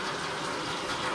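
Hot and cold water taps being opened during home plumbing work, giving a steady, full rush of running water that stays close and even with no talk over it.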